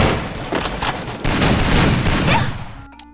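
Sustained dense gunfire from the Free Fire battle game, loud rapid overlapping shots for nearly three seconds before cutting off abruptly.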